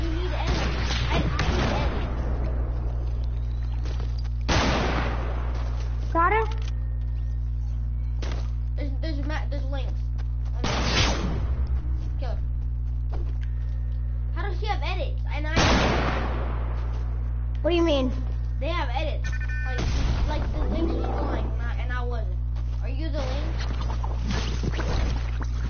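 Intermittent gunfire bursts in an online shooter game, several sharp cracks spaced a few seconds apart over a steady low engine-like drone, with voices talking between shots.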